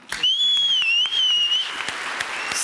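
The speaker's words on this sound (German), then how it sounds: "Einen riesen Applaus für den Macher des Witzestammtisches" Audience applause for Hubertus Herrmann, organiser of a joke-telling regulars' table, at the Bavarian joke championship 2025; steady dense clapping with a whistle running through it, fading toward the end.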